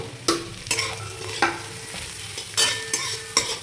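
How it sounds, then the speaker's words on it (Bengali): Carrots, later joined by onions, stir-fried on a low flame for homemade chowmein, with repeated scraping stirs of a spatula over a soft, steady sizzle. "আর এই ভাজাটা কিন্তু পুরোটাই আমি লো ফ্লেমে করছি একদম।"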